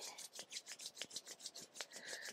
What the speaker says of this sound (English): And I'm going to start to rub my hands together. Rub them firmly.